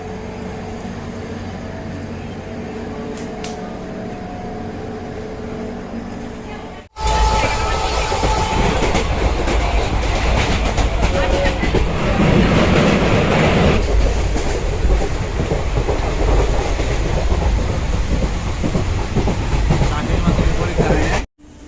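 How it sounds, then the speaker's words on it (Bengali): A local train at Sealdah station rumbles loudly from about seven seconds on, with steady rolling wheel and engine noise after a quieter stretch of platform ambience. "ছটা কুড়িতে ট্রেন ছাড়বে"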